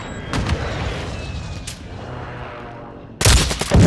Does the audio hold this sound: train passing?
no